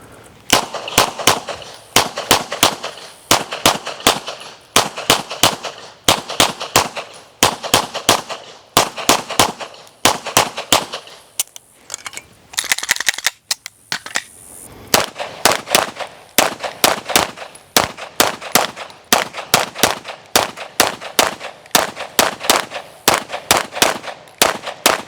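Rapid strings of pistol shots from USPSA practical shooting practice, loud sharp cracks in quick regular bursts, a short break midway, then another long fast volley.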